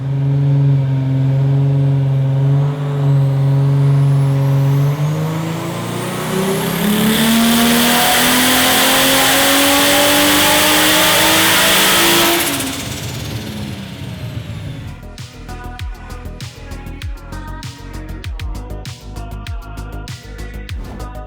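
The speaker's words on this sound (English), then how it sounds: "Now we did just run it up on the dyno." A turbocharged Holden Barra engine revs hard on a dyno. The loud pull climbs steeply in pitch and holds at a high roar, then drops away, and a rapid, rattling, popping idle follows close by.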